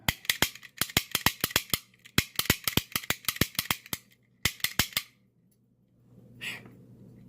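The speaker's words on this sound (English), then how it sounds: "put my bent up snap gun in here and see if it does any good" A bent snap gun fires repeatedly into an Abus Titalium 64Ti/50 padlock, giving sharp close metallic snaps in quick irregular bursts for about five seconds. Then quiet, and a brief soft rustle.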